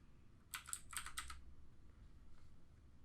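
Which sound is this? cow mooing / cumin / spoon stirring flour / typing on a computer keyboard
typing on a computer keyboard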